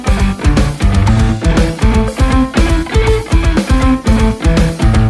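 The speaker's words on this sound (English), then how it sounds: "So I'm just playing 2 quick 16th notes and then there's a 16th note rest." Loud, punchy guitar bursts repeat in a tight, even rhythm, each pair of quick 16th notes followed by a short finger-muted 16th rest.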